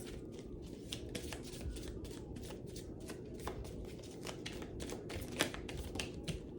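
Tarot cards being shuffled by hand in a rapid, continuous series of crisp riffling flutters, close and quiet, with no voice over them.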